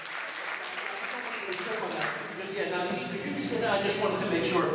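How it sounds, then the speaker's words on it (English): Audience applauding at a hypnotist show, a sustained wash of clapping that swells toward the end, with voices mixed in. "you give her a big round of applause"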